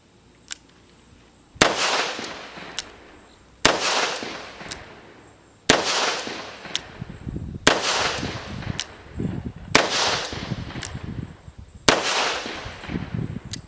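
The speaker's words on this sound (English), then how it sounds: "This is a double single action, so we're going to shoot this one single action." A Zastava M83 surplus revolver fired single action with soft .38 rounds: six loud, sharp shots spaced about two seconds apart, each ringing out with a short echoing tail outdoors, no talking between them.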